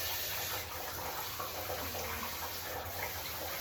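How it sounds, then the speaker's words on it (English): Steady gushing water from a tap runs continuously into a shampoo bottle, a close, even hiss with no pauses and no talking. "So I'll put some water in."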